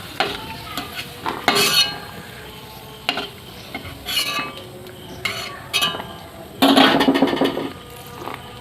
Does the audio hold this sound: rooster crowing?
no